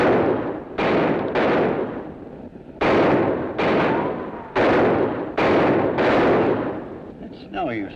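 Gunshots ring out in a western TV show: about eight loud, sharp reports in uneven succession, each trailing off into a short echoing decay.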